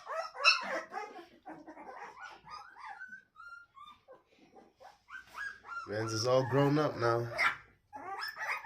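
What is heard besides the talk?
crossbreed bull puppies barking and whimpering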